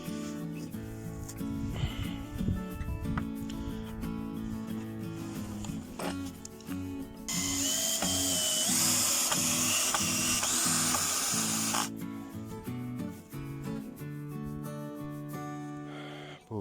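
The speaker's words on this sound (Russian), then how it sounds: "Стягиваю пока на саморезы." A power screwdriver drives self-tapping screws into a wooden greenhouse frame, with one sustained whirring run of several seconds in the middle over steady background music.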